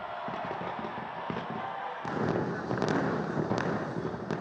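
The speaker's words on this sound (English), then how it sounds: "where the first fireworks of 2024 illuminated the cloudy night" New Year 2024 fireworks over Auckland, New Zealand on a cloudy night, a dense crackling barrage of pops and bangs that grows louder and fuller partway through.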